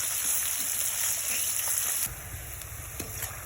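Chopped onions frying in a pan for aloo dum, a steady close sizzle and crackle that continues throughout with a slight drop in level partway, no talking.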